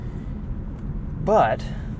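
Steady low roar of wind and road noise fills the cabin of a 2019 Subaru Forester Sport on the move, constant throughout, with a brief vocal sound rising over it just past the midpoint.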